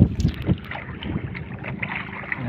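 Choppy sea water slaps and splashes around a small fishing boat in brief irregular bursts, mixed with gusty wind buffeting the microphone.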